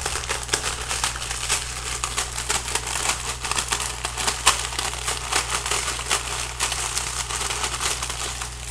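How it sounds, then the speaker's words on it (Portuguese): A pack of Miojo instant noodles is snapped and crushed by hand, giving a steady run of dense, close-up crinkling and crackling of dry noodles and plastic wrapper, with no talking. "na verdade eu quebro o miojo"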